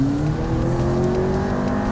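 A McLaren sports car is driven hard around a race track under heavy braking, its engine holding a steady loud drone with a slowly rising pitch, heard close and continuous with no voices.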